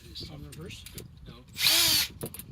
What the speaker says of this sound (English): you're going to get a 3/4 inch step bit